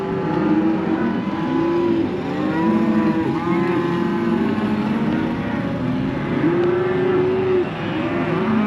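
Calves and cattle being worked in a new handling facility, lowing and mooing repeatedly in overlapping calls from several animals nearby, continuous and loud with no talk.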